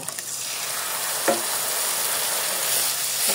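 Chicken roast masala with sour yogurt is stir-fried in a pan, giving a loud continuous sizzle with one brief spoon scrape partway through and no talking.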